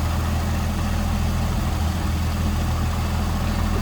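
A 1932 Chrysler CI 3-window coupe's 224-cubic-inch inline six idles in a steady, even low rumble, close and continuous throughout with no voices.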